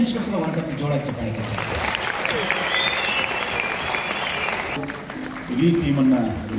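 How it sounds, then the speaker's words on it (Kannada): Steady, dense applause from a concert audience honouring the musicians after a Raj Kapoor song performance, a continuous wash of clapping with a voice and some tonal sound underneath. "ಎಲ್ಲ ಮ್ಯೂಸಿಷಿಯನ್ಸ್ಗೋಸ್ಕರ ಒಂದ್ಸತಿ ಜೋರಾಗಿ ಚಪ್ಪಾಳೆ"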